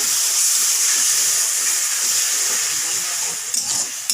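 Garlic and spices frying in a pan just after water is added, giving a loud, steady steam hiss and sizzle that fills the whole clip, with a brief crackle of disturbance near the end.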